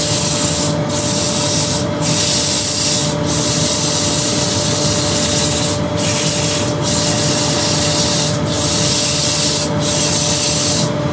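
Continuous loud sanding of a wooden platter spinning on a lathe, a steady abrasive rasp with regular rhythmic pulses as the sandpaper rubs across the turning piece.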